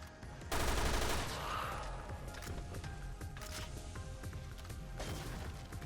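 A powerful gun fires in Resident Evil Revelations 2 Raid Mode. A loud burst of rapid shots leads into a dense, continuing barrage of fire that runs to the end.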